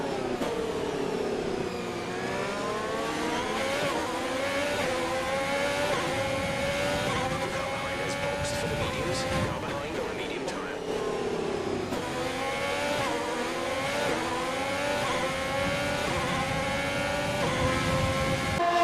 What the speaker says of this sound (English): I'm pushing the car to its absolute limit